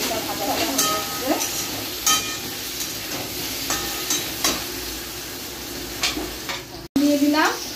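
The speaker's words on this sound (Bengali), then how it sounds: "হালকা মটরশুঁটিটা ভাজা ভাজা হয়ে যাচ্ছে।" Green peas and ginger paste fry in a pan, with potatoes in the mix, while cooking at a family picnic. A steady sizzle runs throughout, broken by scraping stirs and a few sharp clanks of the utensil against the pan.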